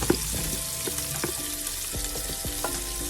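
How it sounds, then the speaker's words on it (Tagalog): Chopped onion drops into a hot pan and sizzles, a bright continuous frying hiss joined by scraping stir strokes from a utensil, close and steady. "Lagyan natin ang sibuyas."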